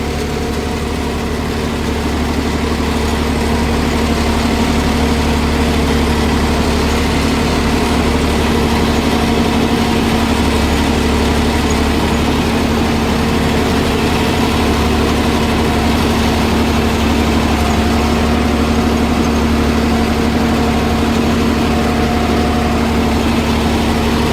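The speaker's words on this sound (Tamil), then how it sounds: "இன்ஜின் பவர் வந்து நல்லா இருக்குதுங்க." Swaraj 969 FE CRDI 70 HP tractor engine pulling a cultivator through a sugarcane stubble field, a steady, loud diesel drone with a constant low hum throughout, alone with no talk.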